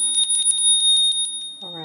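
Small souvenir state bells rung one after another, giving a quick series of bright, high metallic dings with a ringing tone that fades as they go, close and clear, before a voice starts to speak at the very end.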